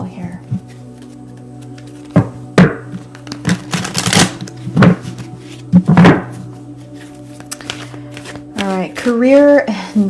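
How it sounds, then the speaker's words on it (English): Tarot cards riffle and snap in several quick bursts of shuffling with dull thumps between them, while a voice speaks over a steady low hum. "All right, one more shuffle here."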